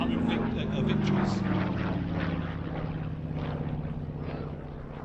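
Yak-3 UTI fighter aircraft flying past at an airshow, a loud propeller engine drone with a falling pitch as it passes, heard alongside a commentator talking.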